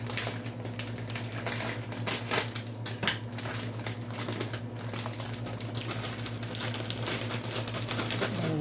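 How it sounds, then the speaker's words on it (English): Mixed vegetables, including Asian vegetables, tipped from a bag into a small soup pot, giving a steady run of light clattering taps and patter against the pot over a constant kitchen hum. "Now we're going to start adding our vegetables."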